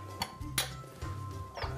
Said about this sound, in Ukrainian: Ми її зливаємо, промиваємо весь посуд гарненько.